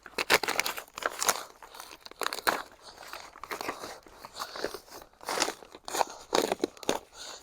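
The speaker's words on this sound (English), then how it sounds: "then you come through and you just cut the excess of this plastic off" Plastic sheeting is cut and trimmed away from a hoop house raised-bed cold frame, irregular crinkling, tearing and snipping bursts up close, with pauses between cuts.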